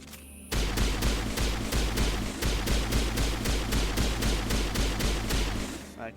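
Steady rapid-fire gunshots from a weapon in Mass Effect, loud and close, a regular rhythmic stream of shots that runs almost the whole time after a brief quieter start.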